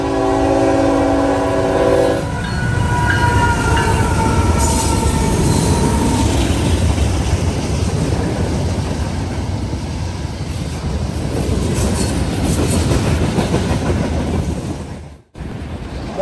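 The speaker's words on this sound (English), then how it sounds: "eastbound NS train 170, daily Chattanooga, Tennessee to Conway, Pennsylvania manifest, with an ET44AC leading" An eastbound Norfolk Southern manifest freight led by an ET44AC locomotive passes close by, with a loud horn blast early on, then a sustained heavy rumble of wheels and cars rolling past.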